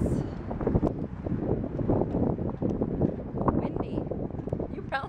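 Strong wind roars and buffets the microphone near moored ships and boats, a dense continuous rumble, with a person talking under the gusts.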